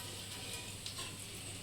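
Whole spices, cinnamon, cardamom and cloves, sizzling in hot oil, a quiet, even crackling hiss that runs the whole way through with no voices.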